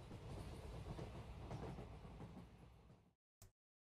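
A train runs on rails through the heart of Soviet Russia as an audiobook sound effect, a steady, full rumble with rhythmic clatter that fades out, followed by one short final knock.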